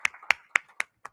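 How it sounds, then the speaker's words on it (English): A few people clapping for a newly elected cybersecurity society president, five sharp, evenly spaced claps close by, the last one softer. "round of applause for Evan."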